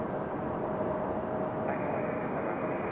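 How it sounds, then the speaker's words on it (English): A Southwest Boeing 737 MAX arriving at Raleigh-Durham airport from Austin gives a steady, broad jet roar with a faint whine, continuous and fairly loud throughout, with wind noise mixed in. "So Southwest coming in from Austin on the 737 MAX."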